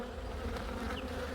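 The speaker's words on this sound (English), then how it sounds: "This one is a cross between Italian and Nigerian." Honey bees from an Italian and Nigerian cross buzzing at the hive, a dense continuous drone held close and steady throughout with no talk over it.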